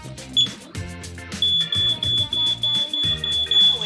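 A smoke detector in a home under roof-leak repair is pushed to test, giving a steady high electronic alarm tone that holds unbroken for several seconds over louder, rhythmic background music.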